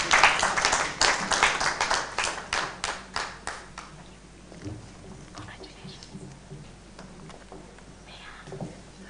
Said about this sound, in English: So we can still clap for them